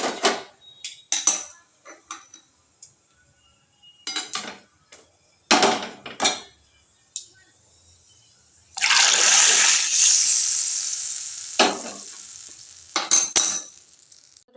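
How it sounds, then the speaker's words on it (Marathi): Spices hit hot oil for a peanut chutney tempering, a loud burst of sizzle lasting a few seconds, framed by close clatters of a spoon and utensils against pans before and after. "आता मी तडका देते"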